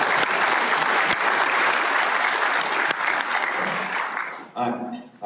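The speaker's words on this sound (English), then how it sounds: "I want this group to give themselves a round of applause" A small group gives itself a round of applause, dense steady clapping that fades near the end as a voice begins speaking.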